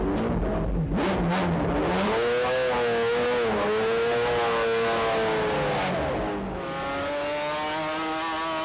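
Sportscar race car engines rev and scream past during an endurance race, a loud, continuous high-pitched roar that rises and falls in pitch as the cars accelerate, with no voices.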